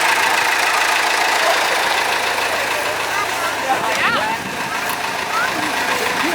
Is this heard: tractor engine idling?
yes